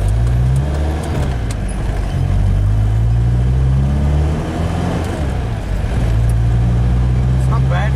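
A car engine pulls away in first gear on a night drive, a steady, loud mid-pitched drone with rising revs throughout.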